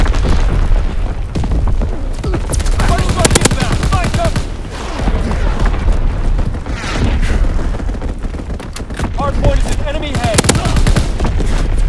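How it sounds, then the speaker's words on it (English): Enemy artillery shelling mixed with heavy gunfire in Call of Duty WW2 multiplayer: dense, continuous booms and rattling bursts across the whole stretch, loud and chaotic, with game voices calling out underneath. "Incoming enemy artillery."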